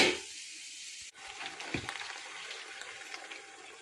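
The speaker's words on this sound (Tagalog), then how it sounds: "Lagyan natin ng konting tubig para maano siya. Para maluto-luto ng konti." Water poured into a pot of vegetable curry with potatoes, a close rushing pour that cuts off abruptly and then gives way to softer liquid bubbling and sizzling in the pot.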